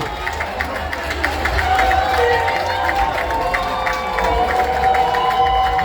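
Audience at the Miss Guyane pageant applauds and cheers loudly and steadily for several seconds, a dense crowd roar with whoops, while an amplified announcer's voice carries over it.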